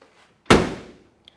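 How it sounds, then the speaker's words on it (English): A 1969 Ford Mustang Mach 1 Fastback door swung shut, one solid close slam with a short ringing decay, then a small faint click moments after. "Doors shut fantastic."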